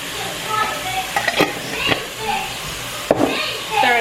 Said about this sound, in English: Stir that up, stir it in real good